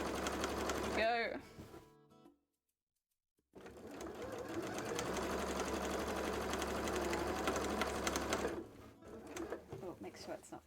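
A sewing machine stitches cosplay costume fabric in a steady, close whir, stopping briefly for a pause of silence before running again for several seconds, with some faint speech around it.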